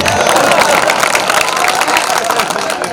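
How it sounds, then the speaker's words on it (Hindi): Dense applause and clapping from a large audience at an all-India mushaira poetry gathering in Burhanpur, steady and continuous, with crowd babble and cheering mixed in. "अब आप मेरे सम्मान में ताली बजा सकते हैं।"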